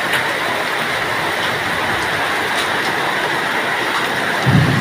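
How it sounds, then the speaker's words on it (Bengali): Hailstones pelting a roof during a hailstorm make a dense, steady, rain-like rattle that stays loud and unbroken throughout, with a brief low thump near the end. "ওই দেখেন শিল পড়তেছে চালের পরে, শিলা বৃষ্টি হচ্ছে"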